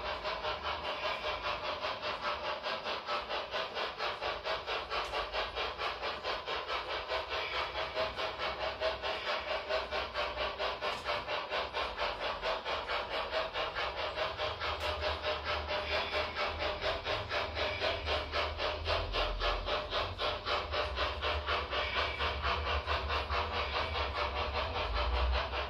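A Soundtraxx Tsunami 2 locomotive sound decoder simulates an uphill climb with a rapid, steady, rasping chuff that repeats evenly throughout. It sounds faint and mechanical, with no talking.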